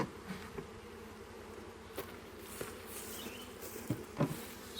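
Honeybees buzzing around an opened, apparently queenless hive during a July inspection, a steady low drone with occasional louder bees passing close and faint knocks of handling.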